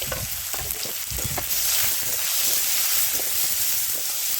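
Chopped onion dropped into hot oil with mustard seeds and curry leaves, a loud, close sizzle that swells and holds steady after a few early stirring knocks, no voices.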